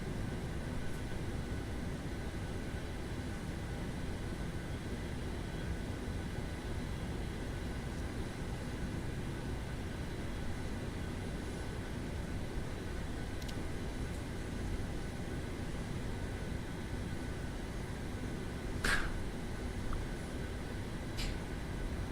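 Qantas Boeing 737-800 in Microsoft Flight Simulator, a steady broadband engine roar holding evenly throughout the takeoff roll, with a couple of faint clicks near the end.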